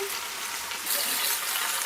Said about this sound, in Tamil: இந்த மாதிரி ஃப்ரை ஆகணும்.